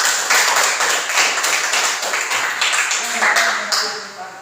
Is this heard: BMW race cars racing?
no